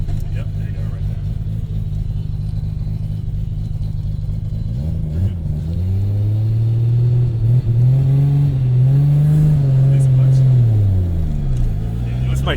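A straight-piped 750HP Nissan R32 Skyline GT-R with a sequential gearbox drones loudly from inside the cabin, its engine pitch dropping and surging through downshifts and revs, with a driver talking over it.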